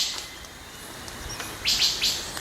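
Forest birds chirp in short bright bursts, with a pair of louder calls near the end, over a steady background hiss of wind moving through the trees.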